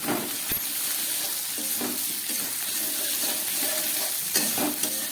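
Cauliflower with ground cumin and chili powder sautés in a pan with a steady close sizzle, punctuated by a few sharp scrapes and stirs of a spoon and no talk.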